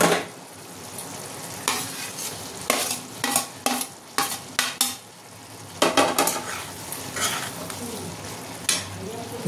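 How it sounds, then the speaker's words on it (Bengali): Spice masala with fried watermelon rind and potato being stirred in a pan, a low continuous sizzle broken by repeated sharp scrapes and clinks of a spatula against the metal pan, close and clear. "এবার এটা আমি মশলাটা একটু কষিয়ে নেব"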